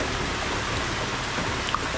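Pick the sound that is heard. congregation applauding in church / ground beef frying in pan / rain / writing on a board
rain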